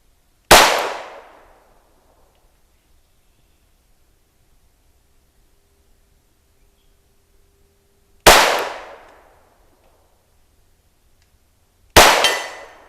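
Three sharp, loud .22 pistol shots from a Ruger Mark IV at a steel target 50 yards off crack out at long, uneven intervals with silence between, each one decaying quickly.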